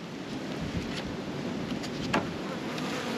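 Honeybees humming inside a double brood hive, a steady, dense buzz close by with no talk over it.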